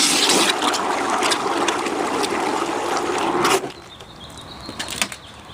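Water gushes steadily into a bucket holding car wash soap, a continuous splashing rush that cuts off abruptly, leaving a quieter trickle and faint drips.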